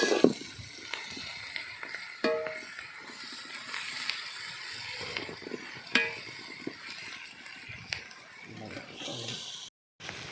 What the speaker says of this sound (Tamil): பாருங்க, உள்ளி நல்லா வதங்கி இருக்கு.